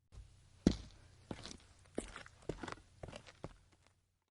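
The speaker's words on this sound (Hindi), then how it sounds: "और कभी कभी पैरों की हल्की हल्की आहट सुनाई देती थी।" Soft footsteps creak through an old haunted mansion: about eight slow, uneven, muffled thuds, close and quiet, with no voices.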